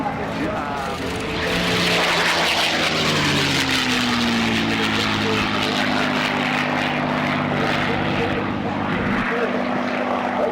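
Spitfire MH434, a WWII fighter, makes a loud pass at the Dunsfold Wings & Wheels airshow in 2014. Its piston engine drones and sweeps in pitch as it flies across, with background commentary underneath.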